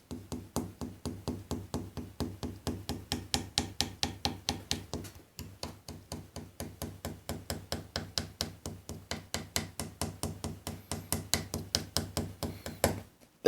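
Rapid, even knocking on a piano soundboard that has come loose from the rim, dozens of close, hollow taps in a steady stream with one short pause partway through.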